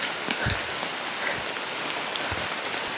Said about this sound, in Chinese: 烂泥哦，加上下雨，真的是还蛮刺激的啦。